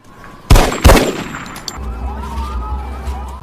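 Gunshots from the film Triple 9, a fugitive shot in an alleyway: two sharp, loud blasts about a third of a second apart ring briefly, followed by a low rumbling background and faint siren-like tones.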